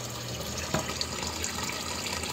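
A pump circulates water through a hydroponics reservoir of daisy-chained buckets, giving a steady close trickle and splash of running water with a small drip or knock partway through and no talk.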